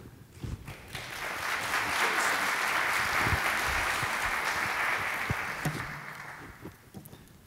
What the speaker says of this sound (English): so I'll take applause